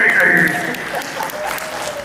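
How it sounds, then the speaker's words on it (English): A studio audience applauds with a steady wash of clapping, while a voice talks over it throughout. "A round of applause, everybody."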